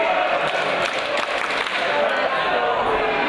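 A wrestling crowd at a live independent match cheers in a dense, sustained roar of voices and applause that fills the whole moment.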